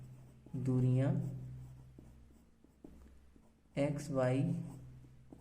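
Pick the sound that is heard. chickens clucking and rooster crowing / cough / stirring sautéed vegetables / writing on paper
writing on paper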